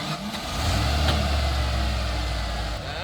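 A manual transmission truck's engine hums and rises slightly as a learner driver eases the clutch out with a little gas, a steady low rumble with a gentle swell, heard from inside the cab.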